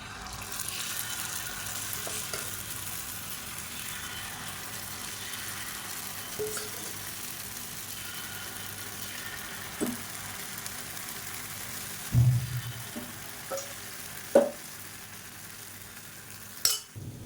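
Appam batter fries in oil in a pan, a soft steady sizzle under occasional sharp clinks and knocks of utensils against the pan, close and fairly quiet, without speech.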